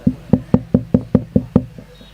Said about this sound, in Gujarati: એને જ દરવાજે ટકોરા થયા